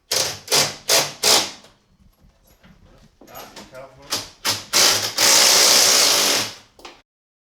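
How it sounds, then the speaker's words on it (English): Tools clatter and clank while a seat frame is bolted into a Barra-swapped LandCruiser in a garage, with sharp knocks, faint handling sounds and then a sustained whirring power-tool burst near the end. "just bolting in the seat frame"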